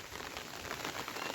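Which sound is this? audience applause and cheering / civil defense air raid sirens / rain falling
rain falling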